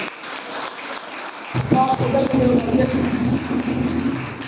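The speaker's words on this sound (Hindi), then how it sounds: "ताली बजाकर महिमा करें।" A church congregation breaks into steady clapping after a moment, continuing as dense, even applause with some voices mixed in.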